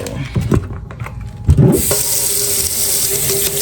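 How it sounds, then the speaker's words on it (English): Cold water runs from a kitchen tap into a sink, a few brief clunks and handling noises, then a steady close hiss of flowing water filling the basin. "fill her up with cold water"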